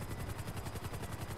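A helicopter in GTA 5 Online gives off rapid, even rotor chops, a fast pulsing thud that holds steady through the short stretch at low, faint volume, with no talk over it.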